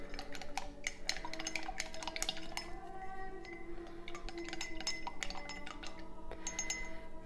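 White wine and spearmint being stirred for an herbal drink, with steady glassy clinks and scraping of a spoon against the vessel throughout, fairly close, over a faint background hum.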